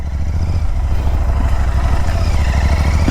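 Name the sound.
Interceptor 650 motorcycle being ridden on main road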